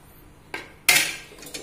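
A pressure cooker is shut after the spinach and mango aviyal is cooked in it: two sharp metal clanks nearby, the second louder and ringing briefly.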